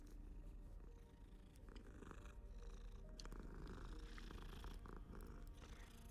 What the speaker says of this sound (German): Streich eine scheiß Katze wieder mal.